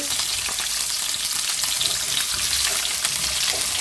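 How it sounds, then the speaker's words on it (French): Sliced bell peppers and fresh onions sautéing in a pan, a loud, continuous hissing sizzle held steady throughout, close and without speech. "Et vous faites revenir tout ça gentiment."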